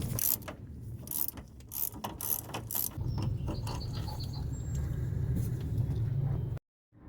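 A ratchet loosens a 7/16 bolt on the steering gearbox of a 1970-1981 Camaro or Firebird, giving rapid clicking bursts close up, then a steadier mechanical whirring run before an abrupt stop.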